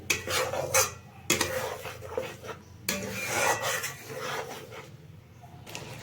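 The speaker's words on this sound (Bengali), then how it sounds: "এবার আমি মশলাটাকে দিয়ে দিই ভালোভাবে মিশিয়ে নেব একটু কষিয়ে নেব খুব ভালোভাবে" Spoon scraping and stirring masala for a katla fish curry in a metal pan, a busy run of close rasping scrapes and clinks that come in uneven bursts with brief pauses.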